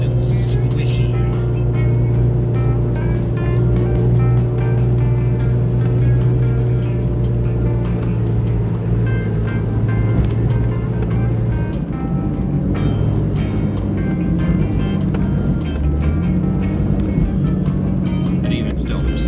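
A Jeep on huge off-road tires aired down to 4.5 psi drives over rough ground, with a steady low engine and tire drone, some rattling and shaking, and someone talking throughout.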